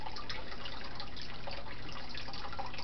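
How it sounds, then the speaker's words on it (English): Bottled water is poured into a scorpion's small water dish, a soft close trickle and patter of liquid running continuously for a few seconds, quiet and alone. "So just fill their water dish with some bottled water."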